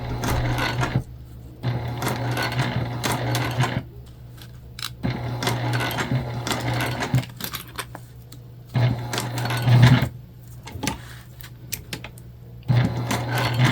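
A sewing machine stitches a bulky seam in upcycled denim jeans, running in several close, steady whirring bursts separated by short stops while the fabric is pivoted, with no talking.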